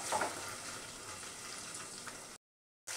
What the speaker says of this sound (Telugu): చేపలు ఎలా వేయించామో అలా చామదుంపను కూడా వేయించి పెట్టుకుందాం.